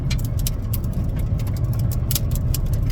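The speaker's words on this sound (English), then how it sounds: "this big tractor trailer driving down 35" A big tractor trailer passes on a highway with a loud, continuous low engine roar and road rumble, close by, with intermittent rattling clicks and no talk.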